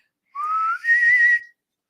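A person whistles two rising sustained notes, the second higher and longer, clear and close against silence.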